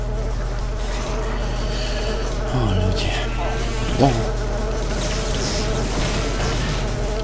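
Mosquitoes in the swamp level of the video game Daikatana make a loud, continuous insect buzz. It drones steadily under a brief exclaimed remark from a player.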